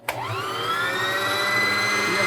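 A sewing machine motor starts with a click and revs up to a steady, high, whining hum while the foot pedal is held and the bobbin winds. It is close and continuous, with no talk.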